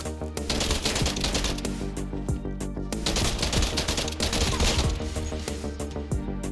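Rapid automatic gunfire from a TEC 9 in the shooter Black Ops Cold War, dense bursts of shots rattling almost continuously at close range across the whole stretch, loud and busy with game effects layered around it.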